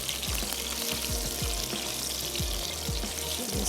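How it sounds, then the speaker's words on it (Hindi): Meat for a black pepper karahi sizzles steadily in hot oil over low heat, a dense continuous crackle with small pops, heard up close with no voices. "हल्की आंच पर बस सिर्फ हल्का सा फ्राई कर रहे हैं"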